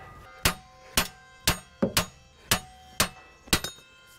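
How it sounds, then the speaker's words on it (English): Sharp metallic hammer blows striking the rear wheel bearing hub of a 2011-2020 Toyota Sienna AWD, eight loud ringing hits at a steady half-second rhythm, close up with no talk. "So when we're hitting with the hammer, you just want to be cautious."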